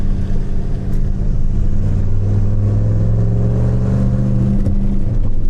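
A 5.7 Hemi V8 in a Jeep Gladiator pickup drones deeply and rises in pitch as it accelerates, a steady loud rumble heard close up, with no voices.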